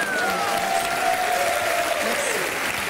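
Loud, sustained applause from a TV studio audience on a French talk show, a dense even wash of clapping lasting throughout, with no voices over it.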